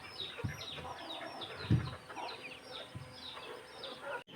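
Village chickens cluck softly at dusk before being shut indoors. A few scattered low clucks and faint bird calls sit over a quiet rural background.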